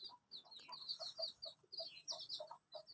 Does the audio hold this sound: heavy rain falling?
no